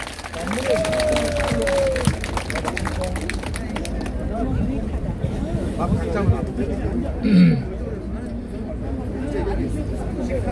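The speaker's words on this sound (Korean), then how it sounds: "네, 박수 한번 해주세요." Audience applause at a gathering, a dense burst of clapping for the first few seconds that thins into a steady murmur of crowd chatter and background voices.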